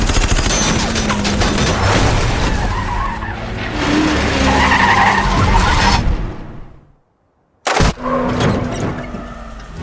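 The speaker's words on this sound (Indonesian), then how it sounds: "Ben berhasil memaksa kendaraan Kyle keluar jalur hingga menghantam keras." A car skids and screeches in a loud, chaotic rush of noise, then falls silent before a sharp crashing impact bursts in.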